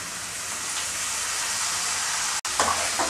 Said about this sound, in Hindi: तो चलिए अब हम इसमें हमारे तौरी को डालते हैं।